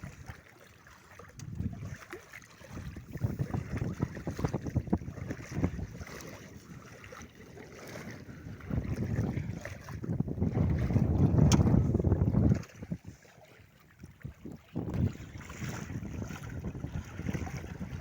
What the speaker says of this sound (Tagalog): Biglang humangin eh. Yan, oh. Medyo maalon na.